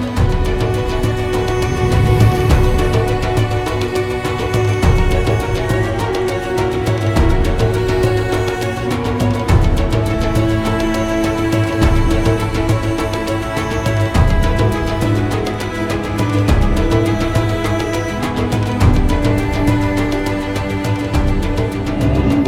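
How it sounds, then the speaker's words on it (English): Jerusalem Day street celebrations in Jerusalem: loud, continuous amplified music with a dense mix of crowd sound, steady throughout with no pauses. "Well, Danny, you can hear the celebrations in the background"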